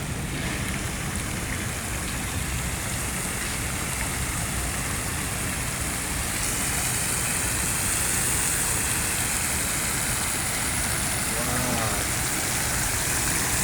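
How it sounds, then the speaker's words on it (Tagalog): Rain pours down steadily in the city of Makati, a dense continuous hiss of drops on hard surfaces, loud and unbroken, with a faint voice briefly audible near the end. "Mapatak ang patak ng ulan"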